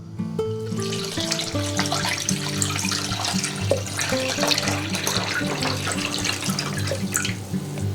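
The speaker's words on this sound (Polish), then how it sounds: "zalewamy wodą." Tap water runs steadily into a pot lined with a cloth and holding bottles of homemade juice, a continuous near rush with faint clinks, over a sustained tonal hum.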